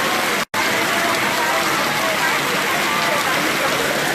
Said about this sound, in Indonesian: Saat ini kondisi hujan,